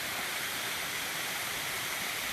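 Water leaks and sprays steadily from an enormous all-wooden water pipe built like old wine barrels and bound with steel rods, giving a continuous broadband hiss and rush with no voices.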